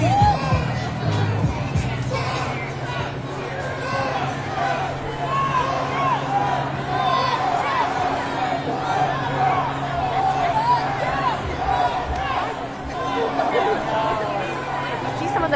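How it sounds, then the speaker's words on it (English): Protesters in a city street boo counter protesters during a No Kings protest in Austin, a continuous crowd roar and babble with cheers rising throughout, while a reporter talks close over it. "protesters are interacting with them. You can hear them booing right now actively."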